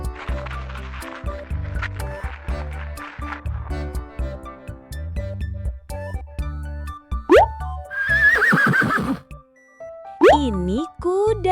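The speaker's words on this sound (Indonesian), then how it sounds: "Ini kuda. Kuda bahasa Inggrisnya horse." A horse neighs in a few short, whinnying bursts near the end, loud and close, following playful background music and a voice speaking.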